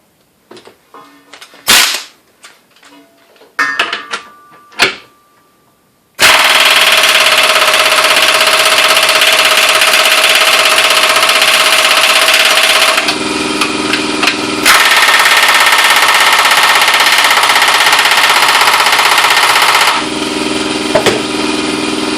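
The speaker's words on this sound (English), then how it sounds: "I'm going to go ahead and use the Ingersoll Rand to take them out, see how long it takes." An Ingersoll Rand 2135QTI MAX air impact wrench removes nuts, running on an air compressor at about 95 psi. A few short loud bursts come first, then a long, very loud, continuous hammering whir that changes pitch partway through and again near the end.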